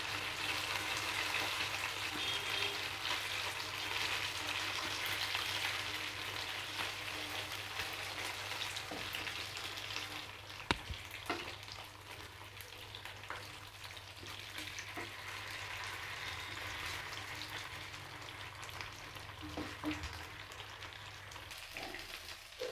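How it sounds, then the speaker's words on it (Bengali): Pabda fish fries in hot oil in a covered pan, giving a steady, soft hiss and crackle with occasional sharp spits, close but quiet, with no talking. "পাবদা মাছটা প্রচণ্ড ফোটে, সেই কারণে আমি ঢেকে দিয়ে মাছটা ভাজবো।"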